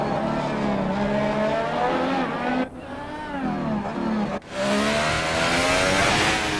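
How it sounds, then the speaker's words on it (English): Formula 1 car engine screaming at high revs, a loud sustained whine that shifts pitch through gear changes with brief dips as it passes, typical of a racing broadcast. "Nice shot of Hamilton's car."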